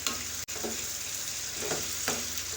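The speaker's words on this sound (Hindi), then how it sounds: "साथ ही हम इसमें 1 टीस्पून अदरक लहसुन का पेस्ट भी डाल देंगे और इसके साथ अच्छे से इसको फ्राई कर लेंगे।" Bottle gourd fries with ginger garlic paste in a pan, giving a constant close sizzle broken by a few soft stirring scrapes.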